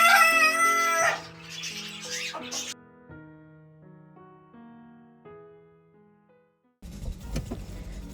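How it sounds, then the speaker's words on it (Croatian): Backyard poultry, with chickens clucking and a rooster crowing, opens on a loud, bright call that breaks off after about a second, followed by quieter sustained tones and another burst of noisy activity near the end. "U nastavku vam pokazujem moju živinu"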